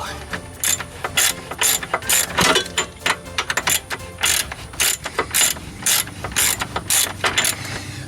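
A ratchet clicks in quick, rhythmic bursts while tightening bolts on a crash-damaged VW Super Beetle, close and crisp with brief pauses between strokes.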